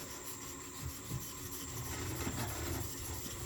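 Steady rasping file strokes on a wood carving chisel under repair, a continuous close scraping texture with no talk.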